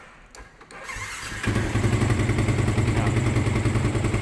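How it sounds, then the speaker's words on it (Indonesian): A Yamaha motorcycle engine cranks and catches, then settles into a steady, loud idle near the mic at about 1150 rpm, its even, rapid pulsing running to the end. "pada saat mesin dihidupkan ya, lihat putaran mesinnya itu 1150 ya"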